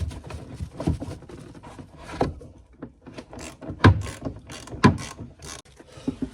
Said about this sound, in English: so I'm just going to remove these bolts.